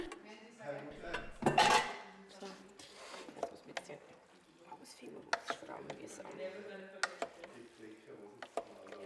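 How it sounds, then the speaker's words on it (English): Palak potato being stirred in a pot, with a loud scraping clatter of a spoon against the metal early on, then lighter intermittent clinks and taps, with soft voices murmuring in the background. "And now stir, stir, stir."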